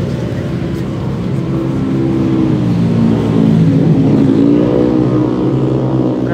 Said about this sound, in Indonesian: Kenapa banyak banget yang pakai knalpot racing seperti itu?